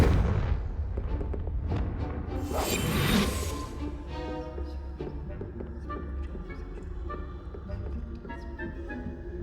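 In the video game Hogwarts Legacy, the Confringo fire spell fires off with a booming blast and bright crackling burst, followed by a rumbling, fizzing tail and scattered game sound effects.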